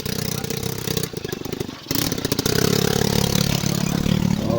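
A motorcycle engine that cranks but won't start, clattering and idling loudly up close, dipping briefly before picking back up into a steady, rough chugging.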